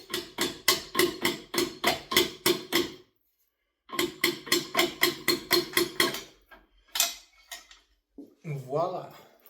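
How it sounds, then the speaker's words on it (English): Hammer tapping a plastic part into a piston on a cheap used motor: two quick runs of about ten sharp, evenly spaced strikes, close and loud, separated by a brief pause, then a few scattered knocks and a short voice at the end. "putting it in the piston and tapping this with a hammer"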